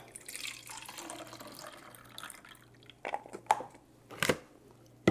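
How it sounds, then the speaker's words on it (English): Walnuts are rinsed under running tap water, a soft continuous splash and trickle with a few sharper drips and knocks near the end, fairly quiet and without talk. "What about this wash with tap water?"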